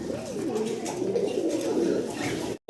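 Soft, low dove cooing repeats in a steady rolling pattern throughout, fairly close, ending abruptly in a brief silence.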